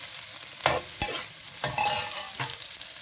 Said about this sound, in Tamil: கிளறி விடுவோம் கொஞ்சம்